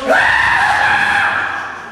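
A voice imitates a person screaming on a fair ride, one long loud sustained shriek that holds steady and slowly fades, up close with nothing else around it.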